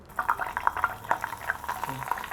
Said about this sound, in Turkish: Biraz zeytinyağı ilave ediyorum.